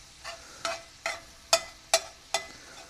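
Sausage in a cast iron pan is stirred in six regular scraping strokes about half a second apart over a quiet background sizzle, heard close up.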